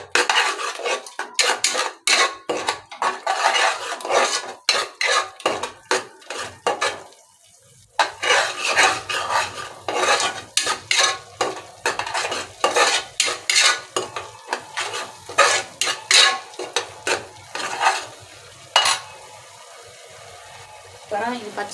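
Food stirred steadily in a metal pan for Muslim-style kuska, with repeated loud scraping and clanking of a spoon against the pan over a faint sizzle and a brief pause midway.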